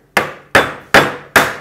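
A small hammer taps crab claws lightly to crack them while preparing beer-steamed crab, four crisp, evenly spaced knocks about a third of a second apart, close and clear with no talking.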